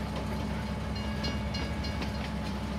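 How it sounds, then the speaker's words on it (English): A train in Farming Simulator 19 rumbles past in a steady, loud rolling drone with faint rhythmic rail clatter. It holds constant throughout, with no voices. "It's an interesting looking train."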